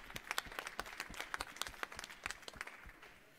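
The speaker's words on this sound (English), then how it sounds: "So another round of applause, please," A room of attendees at a startup business marathon event applauds the sponsors, producing a moderately loud wash of scattered hand claps with sharp individual claps standing out, no talking.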